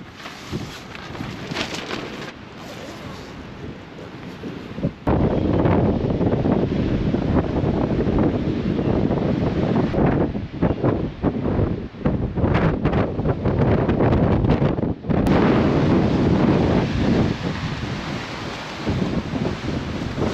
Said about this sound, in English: It's been strong enough sort of winds.